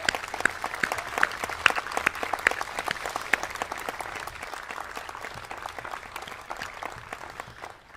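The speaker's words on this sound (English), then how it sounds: "So would you please join me in a round of applause for our music school?" Sustained audience applause for a music school at a community celebration, a dense, even patter of many people clapping, with crisp louder claps close by, holding steady for about eight seconds before tapering slightly.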